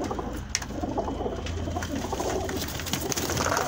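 Young flying pigeons cooing close by, with soft repeated coos layered over a busy background of other birds and rustling.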